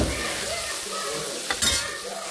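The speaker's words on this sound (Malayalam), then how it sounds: "കൂട്ടത്തിൽ നമുക്ക് തക്കാളിക്ക കൂടി ഇട്ട് കൊടുത്ത് നന്നായിട്ടൊന്ന് വഴറ്റിയെടുക്കാം" Tomatoes sautéed in a pan for a mixed vegetable curry: a steady close sizzle with a couple of scraping spoon strokes and a brief bright clink near the middle, short and without any voices.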